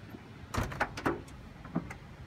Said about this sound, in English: I'm going to go around and I'm going to open the other door to give us a little more light in there.